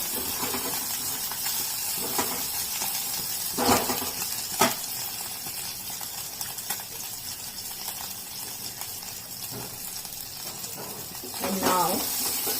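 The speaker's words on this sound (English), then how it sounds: "We'll saute it just for, let's say, about" Ingredients sauté in a pan for khichdi, a steady hissing sizzle with a few louder bursts and scrapes, running under a person's talking.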